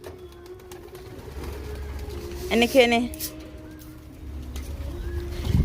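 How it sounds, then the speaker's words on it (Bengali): Pigeons on a rooftop coo nearby while food is set out for them, a short rhythmic cooing burst in the middle, with people talking at intervals. "অনেক পায়রা তো একটা একটা করে নামছে"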